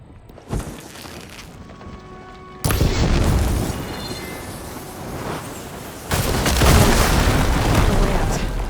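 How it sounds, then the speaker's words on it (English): Blaze barrels struck with fire ammo in Horizon Forbidden West explode in two loud, roaring blasts a few seconds apart. Each blast rumbles on afterward, following a small thud at the start. "Hitting those blaze barrels with fire ammo should do the trick."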